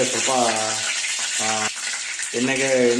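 Curry leaves drop into hot oil in a pan for village-style egg bhurji and set off a constant, close hissing sizzle while a voice talks over it in short bursts.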